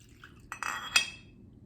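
Tequila poured into a small cup over a square ice cube, giving a few close clinks and a brief splash of liquid, then quiet.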